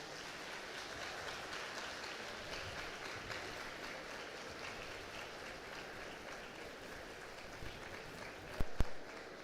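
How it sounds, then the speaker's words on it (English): Graduates at a college passing-out ceremony applaud their parents, a steady wash of many hands clapping at moderate distance for several seconds, fading slightly with a couple of louder knocks near the end. "can you clap for them for a few seconds?"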